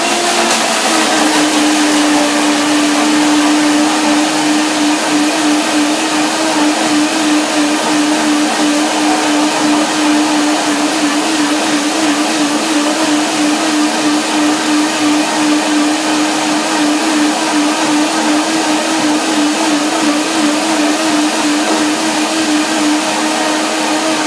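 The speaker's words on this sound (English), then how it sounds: "Let's see what happens with a blender dance." A blender whirs steadily and loudly for the whole stretch as it purees frozen raspberries, lemon and banana, with a constant motor drone and no voices.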